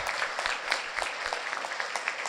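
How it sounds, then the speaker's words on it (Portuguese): Audience applause closing a women's tribute at a Brazilian technology breakfast event, dense steady clapping throughout, moderately loud with scattered sharper claps and no voices over it. "uma última salva de palmas a todas as mulheres"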